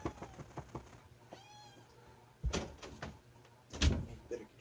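A house cat meows a few times indoors amid household clatter like a door or cupboard, with a person talking over and between the cries.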